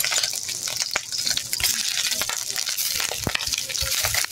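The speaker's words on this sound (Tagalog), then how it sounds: "So, iprito na po nato." Food fries in a pan with a steady sizzle, broken by stirring clatter and scraping that comes through loud and close.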